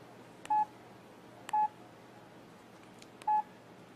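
Phone keypad button tones from a telephone directory menu, three short identical DTMF beeps spaced about a second apart, clear and close over a quiet background hiss.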